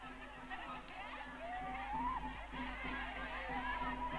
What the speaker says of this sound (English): A crowd has collected to watch the juggler.